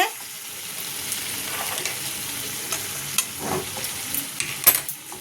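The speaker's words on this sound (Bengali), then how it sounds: "দেখো মশলাটা কষানো হয়ে গেছে কিন্তু তেলও বেরিয়ে গেছে" Spice paste for a vegetarian paneer curry with potatoes fries in oil, giving a steady soft sizzle with occasional stirring scrapes and clicks close by, no voices.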